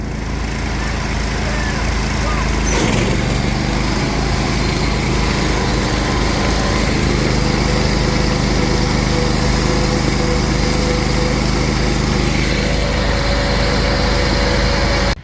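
A 23 horsepower Duramax riding mower engine with upgraded jets and a 6-inch pulley, running loud and steady on a back trail, a continuous close engine drone that holds for the whole stretch.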